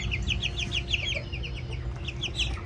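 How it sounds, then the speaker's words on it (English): Several chickens in a nursery coop cluck and chirp in quick repeated bursts, close by, over a low steady background hum. "And these are very nosy chickens."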